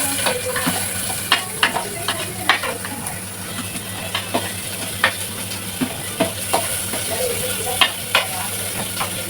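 Onions fry in a pan for chicken biryani over a steady low sizzle, while a spoon scrapes and taps the pan at irregular moments close by.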